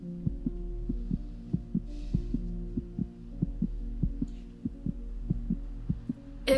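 A heartbeat thumps in a steady rhythm, about two beats per second, soft and regular over a low continuous hum, no voices.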